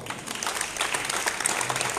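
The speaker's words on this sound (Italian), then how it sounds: "un applauso." Audience applause for volunteers at a civic thank-you event, a brief full burst of clapping that swells slightly and stays steady.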